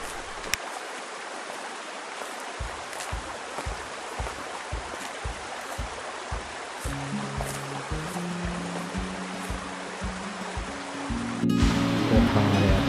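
Sukeli Waterfall gives off a continuous broadband roar of rushing water, with a rhythmic low musical pulse joining partway through and growing louder near the end.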